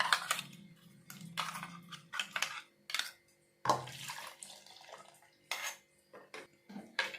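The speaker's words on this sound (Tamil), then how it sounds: "இதில் தண்ணி ஊற்றி நல்லா அலசி எடுத்து ஊற்றிக்கலாம்." Water poured into a metal cooking vessel for rinsing, with clanking of the pot and splashing in short bursts, close and fairly quiet, no talking.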